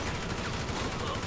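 An AK rifle fires in Grand Theft Auto V as a brief, steady, rapid burst of gunfire that carries straight through the short clip, with faint talk underneath.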